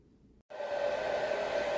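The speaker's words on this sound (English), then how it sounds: "when you start to use the blow dryer, make sure it is on a very low setting" A blow dryer on a very low setting switches on after a brief silence, then runs as a steady, close, even whoosh with a constant motor hum to the end.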